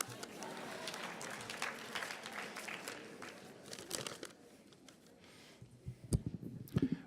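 Quiet applause from an audience at a synagogue speaker series, a soft patter of clapping for a few seconds that fades to scattered claps and rustling, heard from a distance.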